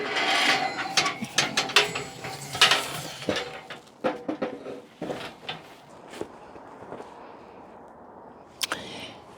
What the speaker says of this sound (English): I'm going to put the chimney on.